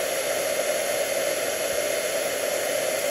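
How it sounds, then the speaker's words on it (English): Heat gun blowing for heat embossing, a steady, loud whooshing roar with a constant whine, close and unbroken throughout with no talking. "I will heat emboss with my heat gun"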